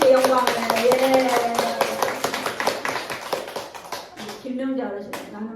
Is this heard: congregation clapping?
yes